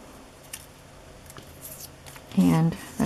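Scissors snip out stamped paper shapes in a run of small, quiet crisp clicks, followed by a brief burst of talking near the end.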